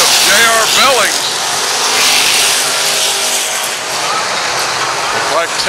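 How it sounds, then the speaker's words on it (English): Race cars roar down the straightaway at Lakeside Speedway, a loud, dense engine wash rising and fading as they pass, with an announcer's voice calling the race over the noise. "Looks like Tavis is going to be your first lap leader, but J.R. Billings is right on his backside as they go down that straightaway"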